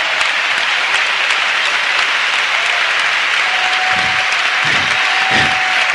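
A church congregation applauding, dense and loud continuous clapping that holds evenly throughout, with a faint sustained tone and a few deeper thumps toward the end.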